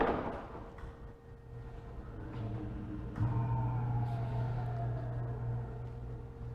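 A WBE4100 wheel balancer spins a tire with its hood closed, making a quiet, steady motor hum and whir. The sound builds slightly partway through and holds a constant tone until the end.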